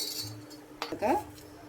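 A metal spoon clinks briefly against a pan while a spoonful of oil goes in for tempering kandi pappu pachadi, a couple of light, close taps over a quiet kitchen background.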